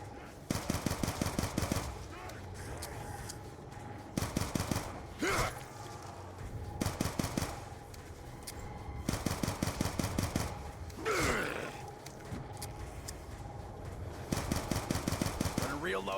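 Repeated bursts of rapid automatic gunfire in the Black Ops 2 Origins zombies map, loud and close, firing in short rattling strings separated by brief pauses and a few other game noises.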